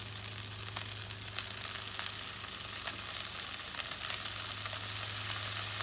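Cut okra, a little under a cup, sizzles steadily in a hot skillet as it is spread out, a continuous close frying hiss with small crackles and faint stirring, no talking.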